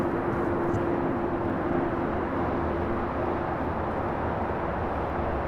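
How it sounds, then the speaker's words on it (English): A Cathay Pacific Boeing 777-300ER jet departs LAX bound for Hong Kong, its engines producing a constant broadband roar with a low steady hum, loud and unbroken throughout, with no talking. "we have the Cathay Pacific 777-300ER heading back to Hong Kong with the tail to the north"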